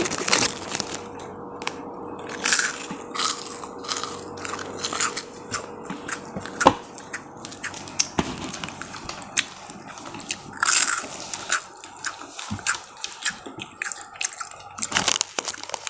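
Crispy packaged snacks crunched and bitten close to the mic in an ASMR style, with sharp irregular crackles and crunches repeating over a quiet background and no talk.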